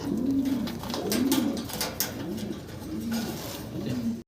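Pigeons, apparently Russian Angel birds kept for sale, coo nearby in a series of about five low, rounded, rolling calls at a regular pace against a light background hum.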